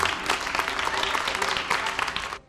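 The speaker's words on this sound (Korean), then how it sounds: "우레 같은 박수 소리 들리시죠?" Thunderous audience applause follows a Korean fan dance performance at an international evening at a Swiss hotel management school, loud and dense throughout before cutting off abruptly at the end.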